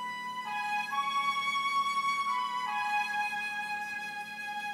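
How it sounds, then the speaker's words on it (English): Two flutes playing a legato line from a Spitfire Symphonic Woodwinds sample library, sustained pure tones stepping between a few held pitches, steady and clear with no voices. "I started at first with the two flutes legato patch from the Spitfire Symphonic Woodwinds"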